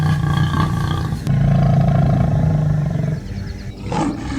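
Lion giving a low, sustained warning growl in the wild, a deep rumbling roar held close and loud for several seconds before easing off into quieter rasping.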